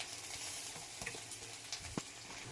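Cinnamon, a cardamom pod, a few cloves and cumin sizzle in hot oil for a tempering, making a soft, steady frying hiss with a couple of small pops and clicks.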